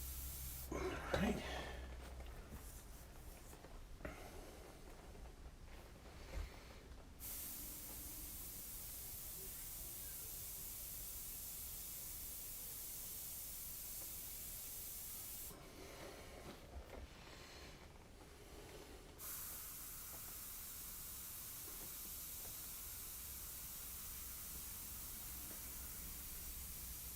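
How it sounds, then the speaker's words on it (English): Spray paint can hissing as overspray is cleaned from a graffiti-style background: two long bursts of steady bright hiss, each several seconds, separated by quieter room tone. "So really all I'm doing right now is cleaning up some overspray from our background."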